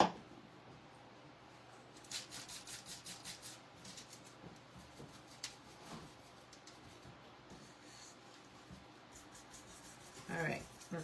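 Soft, quiet rubbing of colour off a paper Christmas tag, a dry scuffing texture with brief brushing bursts, close and faint, with no one speaking.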